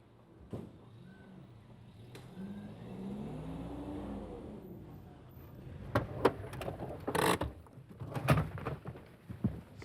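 A car pulls away and its engine note rises then fades into the distance, while pigeons coo nearby and a few sharp knocks sound afterward.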